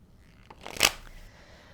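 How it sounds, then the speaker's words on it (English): A short, quiet riffle of tarot cards being shuffled, peaking in one brisk burst before fading back to near silence. "I already pre-shuffled this deck, just a few more."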